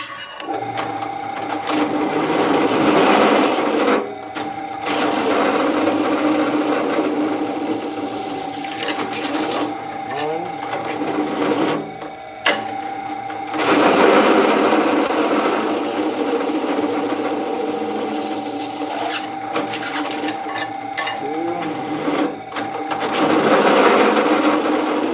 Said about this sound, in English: All right, drill our weight reduction.